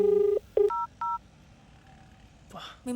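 Short telephone dialing tones beep in quick succession, a few steady electronic pips at close range, with a voice breaking in at the start and end.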